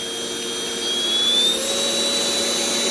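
A Deerma VC20 Plus handheld cordless vacuum running on turbo setting gives a steady, close, high-pitched motor whine with a rushing airflow hiss that rises slightly in pitch and holds for three seconds, with no talk.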